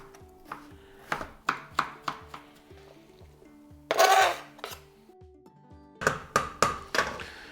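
A knife chops hollowed-out zucchini flesh on a board for a chicken, mushroom and cheese stuffing, giving a steady run of close, crisp taps in two bursts separated by a brief scraping rustle, with no talking.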